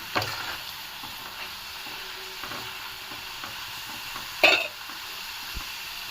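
Crisp potatoes fry in hot oil with a steady, close sizzle as they are stirred, and a brief louder scrape or clatter comes near the end.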